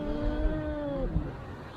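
A cat's drawn-out meow on a seaside promenade along the Mediterranean in Nafplio, Greece, heard close and fairly loud over a low outdoor rumble.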